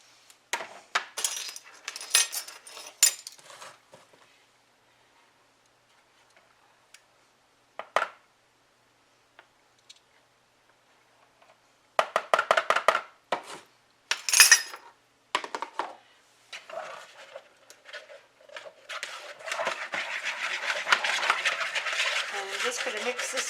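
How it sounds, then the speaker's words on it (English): A utensil clinks and scrapes against a small bowl while cornstarch is stirred to dissolve, coming in irregular bursts with quiet gaps and ending in continuous rapid stirring. "I'm just basically trying to dissolve the cornstarch."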